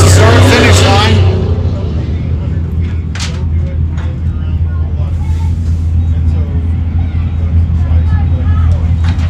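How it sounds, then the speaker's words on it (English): A stock truck roars past at the start-finish line of the High Desert 100 in Powell, Wyoming, a loud engine blast at first easing into a steady rumble, with commentary and crowd noise over it. "there's Nacho Race Team coming across the start-finish line"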